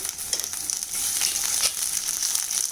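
Onion and bell pepper sauté with garlic in a hot pan, giving a steady, close sizzle with crackles and soft stirring scrapes throughout.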